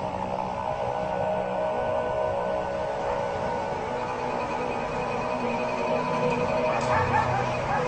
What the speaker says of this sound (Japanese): 撮影者のサンチェス氏はなぜか近所の犬が騒がしく吠え始 めたという